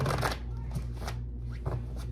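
Tarot cards are shuffled by hand in a quick run of soft, papery riffling bursts, close and moderately loud, with no voice over them.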